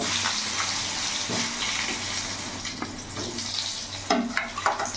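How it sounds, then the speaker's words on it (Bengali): Potato sticks, cut long for a fish curry, fry in oil in a pan with a steady, close sizzle and a few clattering bursts near the end. "এবার ওই তেলের মধ্যে এখানে লম্বা লম্বা করে কেটেছি মাছের জন্য, সেই আলুগুলো আমি ভেজে নেব।"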